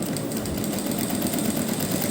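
A sewing machine stitches a cuff sleeve with piping, running steadily and continuously at close range with a dense mechanical whir.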